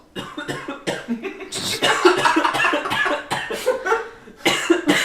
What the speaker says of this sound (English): Cough into the mic harder.